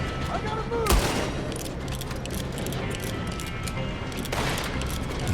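Gunfire in Red Dead Redemption 2: a continuous crackle of shots under a busy mix, with two sharper, louder bursts standing out near the start and again toward the end.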